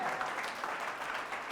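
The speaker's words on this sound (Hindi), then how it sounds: "ताली बजाएंगे प्रभु के लिए।" A congregation at a Hindi church sermon claps together, a brief dense patter of applause sustained evenly for under two seconds, heard alone without speech.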